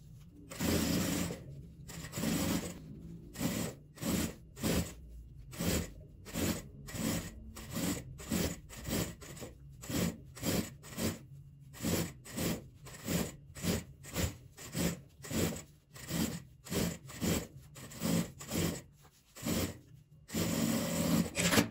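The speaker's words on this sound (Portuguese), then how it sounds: "Aqui eu vou rebater a máquina." A sewing machine topstitches bias binding onto fabric for a small organizer basket, running in a long series of quick rhythmic bursts separated by short pauses, close and fairly loud with no talking.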